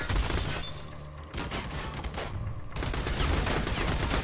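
Heavy gunfire in the video game Army of Two, dense loud bursts of shots and impacts hammering almost without pause, briefly dipping before the firing surges again.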